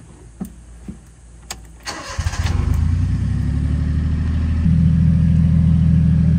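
A Honda Acty mini truck engine cranks and catches after a few clicks and knocks, then settles into a steady close idle that rises slightly in pitch near the end.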